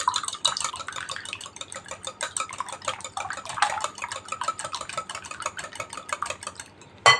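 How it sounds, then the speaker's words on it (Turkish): Four eggs whisked by hand with a whisk for a Turkish börek batter: rapid, steady metallic clicking and tapping against a bowl, close and continuous for several seconds, ending with a sharper knock. "Bir çırpıcı yardımıyla yumurtalarımızı bir çırpalım"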